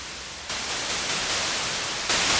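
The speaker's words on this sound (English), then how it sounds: "Let's feed some white noise into it" White noise is fed into a synthesizer filter module, a steady broadband hiss that steps up in level twice as the settings change.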